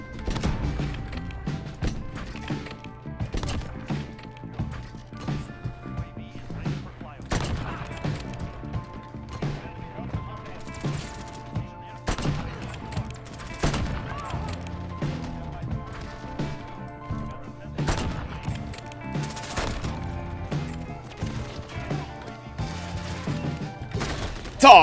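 Call of Duty: Modern Warfare gunfire on the Shipment map, sharp repeated shots and bursts scattered across the clip among in-game clatter, with a player's voice talking over the action.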